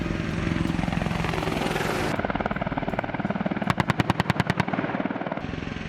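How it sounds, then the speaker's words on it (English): AH-64 Apache attack helicopter rotor thudding steadily up close, a dense chopping drone that shifts partway through into sharper, louder beating blade slaps. "This is a day in the life of the most powerful attack helicopter in the US."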